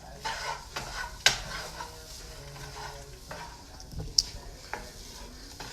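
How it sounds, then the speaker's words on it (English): Seasoned taco meat is stirred in a pan, with a soft sizzle under scattered spatula scrapes and a few sharp clinks of utensil against metal, close and fairly quiet. "just stir it up, mix those seasonings in, and let this heat up a little bit"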